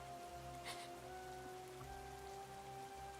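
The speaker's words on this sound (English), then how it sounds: "The villain walks off, leaving her behind in the rain." Steady rain falling in the video game Nikke, a soft, even hiss of drops on a surface with a faint tonal hum beneath, continuous and quiet throughout with no voices.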